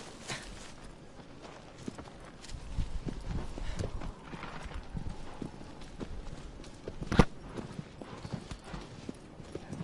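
A horse's hooves clip-clop steadily in Shadow of the Colossus, an even walking rhythm of soft thuds close by, with one sharper knock partway through and no talk over it.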